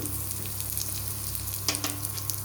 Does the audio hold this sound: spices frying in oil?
yes